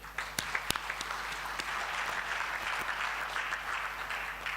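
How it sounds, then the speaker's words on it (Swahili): An audience at an engineers' conference at Mlimani City applauds a fellow engineer. Steady, moderately distant clapping fills the hall throughout, with a few sharp claps standing out early. "Kwa nini tusimpigie makofi?"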